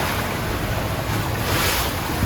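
Large ocean waves rush and break against a small sailboat under sail in rough seas, a loud, continuous roar of surf mixed with heavy wind buffeting the microphone.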